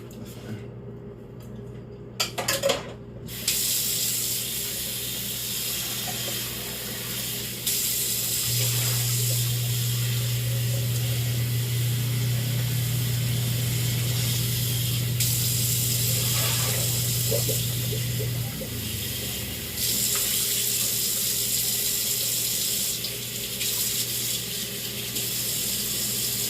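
Running tap water while something is rinsed out in a kitchen sink, with a steady hiss of water that swells for several seconds amid clattering and handling noises, close by.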